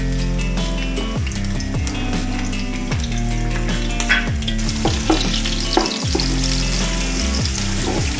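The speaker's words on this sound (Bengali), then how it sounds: "একটু হালকা ভেজে নিই।" Chopped onion fries in oil in a pan, a steady close sizzle running throughout with occasional scrapes and clinks of stirring, no voices.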